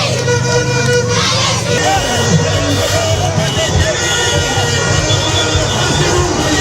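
Crowds lining a presidential motorcade route from the airport in Bamako cheer and shout in a constant loud roar, with vehicle engines rumbling underneath and many overlapping voices.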